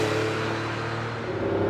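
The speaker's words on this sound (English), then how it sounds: "going steadier, just making that 12-cylinder boxer music." A Ferrari 512BB's 12-cylinder boxer engine drones steadily while driving, a loud, continuous low mechanical hum heard from inside the car.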